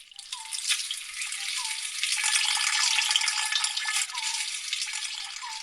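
Water pours steadily from a tap into buckets, pots and pitchers at home, a continuous splashing hiss that swells slightly mid-fill, with faint drips and no voices.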